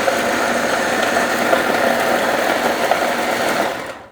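A kitchen mixer grinder grinding roti mix runs with a steady, loud, high motor whine and a buzzing rattle, holding an even level before cutting off at the end.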